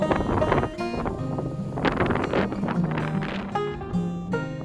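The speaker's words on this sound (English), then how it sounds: "That wind's kicking." Wind gusts across an exposed mountain top in the Shining Rock Wilderness, rumbling and buffeting the microphone in uneven bursts. Tonal flutter and whistling run through the gusts.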